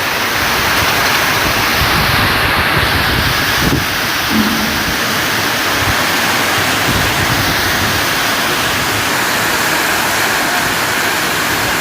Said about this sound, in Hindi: जितनी बारिश हो रही है